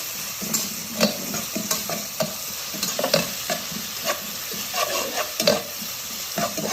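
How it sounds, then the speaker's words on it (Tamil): Onions sizzling in hot oil while a utensil stirs them, for a meat curry. Scraping strokes come in irregular bursts over a steady frying hiss, close and moderately loud, with no talking. "வெங்காயம் வந்து நல்லா எல்லோ கலரில் ஆகிற வரைக்கும் போட்டு எண்ணெயில் போட்டு வதக்கலாம்"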